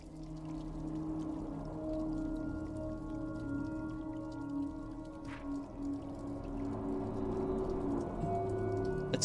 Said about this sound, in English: Oh, they're meowing down at you.